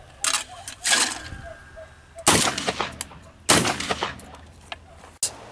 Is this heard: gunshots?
yes